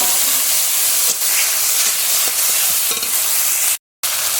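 Water splashed into spice paste frying in oil for a village-style Bengali dish with masala bori, giving a loud, steady hissing sizzle with stirring scrapes, broken by a brief silence near the end, no talk.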